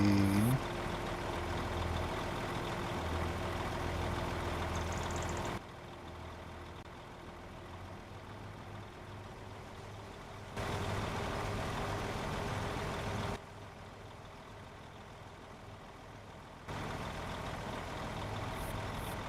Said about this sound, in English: Like I said, this truck is loud, so actually harvesters are loud too.